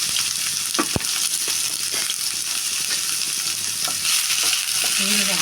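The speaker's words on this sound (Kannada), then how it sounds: "ಹಾಕ್ಕೊಂಡ್ಬಿಟ್ಟು ಸ್ವಲ್ಪ ಫ್ರೈ ಮಾಡೋಣ." Onion frying in a mustard seed and cumin tempering sizzles loudly and continuously up close, with scattered pops and spoon clinks as it is stirred.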